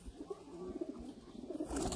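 Sialkoti pigeons coo in a loft, soft low repeated throaty coos close by at a quiet level, with faint background noise.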